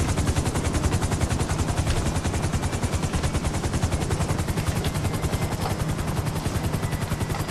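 Sustained automatic gunfire from Merryweather mercenaries in Grand Theft Auto Online, a rapid, steady stream of close, loud shots mixed with a helicopter's rotor drone, with no voices.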